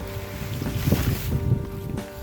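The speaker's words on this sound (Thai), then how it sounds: "ลม" Wind rushes and buffets the microphone in an outdoor setting, a continuous breathy roar with gusty low rumbles and no voices.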